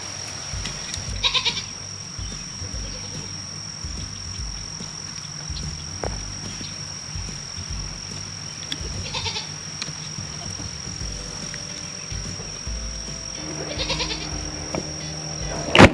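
Goats on a farm being used to clear land, bleating several times at intervals, fairly close, over a steady hum of insects and crickets.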